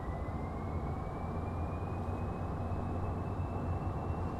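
Steady roar of a Challenger 650 business jet's engines spooling through a takeoff roll in a flight simulator, a constant broadband rumble with a slowly rising whine.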